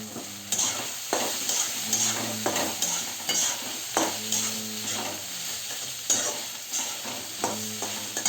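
Washed poha added to a frying pan for kanda pohe and stirred, with repeated rhythmic spatula scrapes every second or so over a continuous close sizzle.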